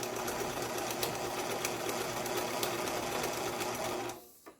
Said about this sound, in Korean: 이 기계는 공업용 미싱은 아니지만은 공업용 미싱이 버금가는 고가의 재봉틀이었습니다